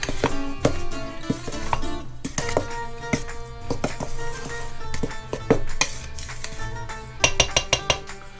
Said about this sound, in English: I'll just kind of stir all those dry ingredients together